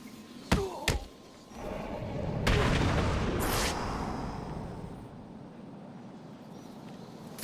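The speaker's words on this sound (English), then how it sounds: "they start shooting" Enemy gunfire in Batman: Arkham City: two sharp loud bangs near the start, then a sustained roar of rattling shots and booms that tails off into steady noise.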